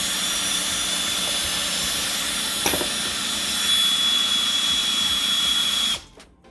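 A steady, high-pitched whine of a cordless drill boring drainage holes in a ceramic planter, running continuously, loud and close, before cutting off abruptly near the end as the battery dies.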